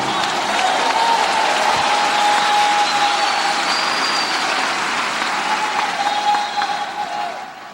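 A church congregation at an Assembléia de Deus service in Fortaleza breaks into sustained, loud applause, a dense crackle of many hands that holds steady and then tapers at the end.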